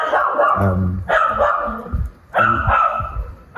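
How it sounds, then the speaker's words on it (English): A dog barks loudly and close by, three separate bursts of bark with short gaps between them, and no talking. "That dog is very loud."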